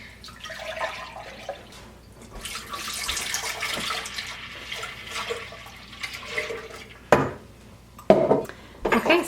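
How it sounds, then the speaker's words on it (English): Five cups of milk are poured into a crock pot, making a gurgling, splashing stream with some clinks of the container. Near the end there are a few sharp knocks. "all I'm gonna do is add 5 cups of milk to my crock pot."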